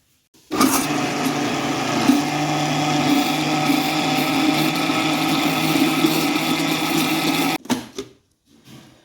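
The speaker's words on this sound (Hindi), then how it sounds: "1 टेबलस्पून ये ऐड कर दिया और इसको हम दोबारा से ग्राइंड कर लेंगे" A kitchen mixer grinder blends hair conditioner into a keratin paste with a steady, loud, high-pitched motor whine lasting about seven seconds, then cuts off with a few brief knocks and rattles.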